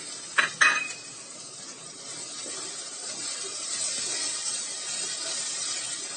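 Capsicum stir-fried in a pan for an easy pasta dish: two quick metallic clanks of a utensil against the pan, then a steady, moderately loud sizzling hiss that carries on alone.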